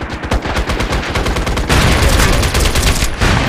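Rapid automatic gunfire in the shooter video game MAG, with loud, close bursts of shots cracking in quick succession, then merging into a denser, continuous volley.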